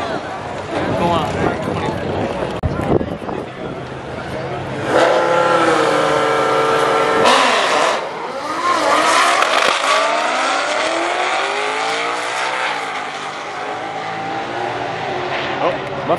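A Ford Mustang drag racing car launches and accelerates hard at a Texas street-racing event, its engine roaring loud and close with rising revs and gear changes, tire noise, crowd chatter and voices underneath.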